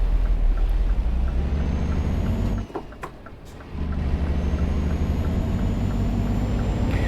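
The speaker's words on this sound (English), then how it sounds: "Really enjoying listening to the road noise there of these trucks going by and the bikes" Continuous low rumbling road traffic of trucks and bikes passing in a Euro Truck Simulator 2 drive, a steady engine drone that briefly drops away before swelling back, loud and close with no talk.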